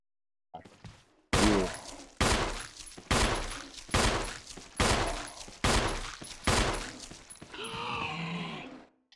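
Seven heavy gunshots boom in a steady series in the Resident Evil Remake video game, each a loud sharp blast with a short decaying tail, followed by a low groaning roar at the end.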